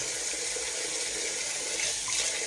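Warm tap water runs steadily into a sink, a continuous close broadband rush with no break and no talking.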